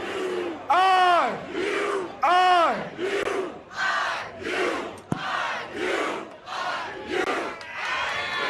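A stadium crowd at a college football pregame show, UCLA vs. Indiana, roars in loud rhythmic chanted shouts that rise and fall in repeated waves with a sharp clap partway through.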